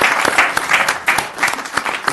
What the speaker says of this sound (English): We'll give them a round of applause for that